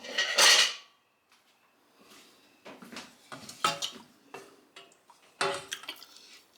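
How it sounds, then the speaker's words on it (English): A spoon stirs pectin into chokecherry syrup in a metal pot, starting with a loud clatter and then continuing as a run of scraping clinks and knocks against the pot at an uneven rhythm. "2 tablespoons of pectin. We'll stir that up real well."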